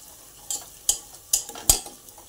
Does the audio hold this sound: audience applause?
no